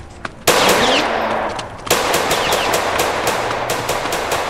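Gunfire in a shooter video game, loud rapid automatic bursts after a brief single shot, with repeated crackling shots continuing close and sharp throughout.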